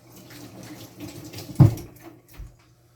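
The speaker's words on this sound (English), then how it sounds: "Let me rinse my hand off for you." Tap water runs briefly as hands are rinsed at a sink while preparing homemade deer jerky, a soft steady trickle with one louder splash midway before it tapers off.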